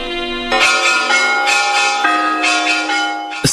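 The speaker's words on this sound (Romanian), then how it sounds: "se auzea sunetul clopotului" A village church bell rings loud and close, strong clangs overlapping in a rich, sustained metallic wash with new strikes every half second or so.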